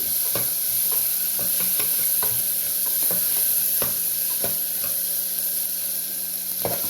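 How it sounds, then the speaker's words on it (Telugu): A spoon stirs masala khichdi vegetables, including spring onions, as they fry in a hot pan, steady sizzling under repeated scraping strokes at an uneven pace, close up with no talking. "ఇవన్నీ ఒక మాట బాగా కలుపుకోవాలి."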